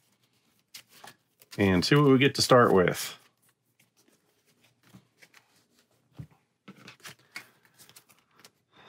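A deck of Dice Throne Adventures cards is riffle-shuffled in a loud burst of quick crisp flutters lasting about a second and a half, followed by faint handling clicks and scattered soft card sounds while a person briefly speaks.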